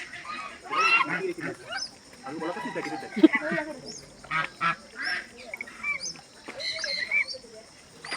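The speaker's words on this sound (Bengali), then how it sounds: "তো রাজহাঁস হাঁস সব কিছুই দেখালাম" Geese and ducks calling outdoors on a hilly roadside in Pelling, with repeated honks and quacks in uneven bursts close by, mixed with people talking nearby.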